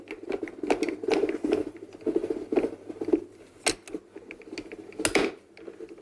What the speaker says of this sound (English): I'm just gonna run that through now to cut this one out.